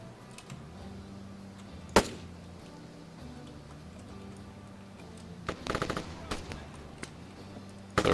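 Gunfire from the ArmA 3 military video game, heard as sparse sharp shots and a short burst of automatic fire over a steady low background hum, moderately loud and without speech.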